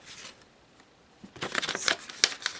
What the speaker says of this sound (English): And then fold it over.